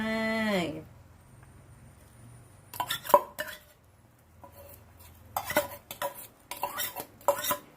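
A spoon stirs red ant eggs into a pot of curry with straw mushrooms, wild sweet leaf and yanang leaf broth, giving intermittent close scrapes and clinks against the pot between quiet pauses.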